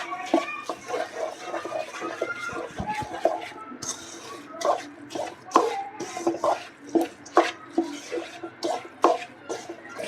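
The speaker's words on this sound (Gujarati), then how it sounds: "હવે આમાં આપણે ગુંદ એડ કરી દઈશું. સારી રીતે મિક્સ કરી લઈશું." A spoon stirring edible gum into a thick sukhdi mixture in a pan, producing irregular close scraping and soft sticky clacks in an uneven rhythm that quickens toward the end.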